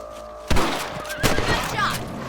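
A rifle in Red Dead Redemption, fired while hunting rabbits, gives two sharp, close shots spaced under a second apart, with game ambience and a little voice activity around them.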